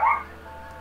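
A dog named Peanut gives a single short, fairly faint bark indoors, followed by quiet.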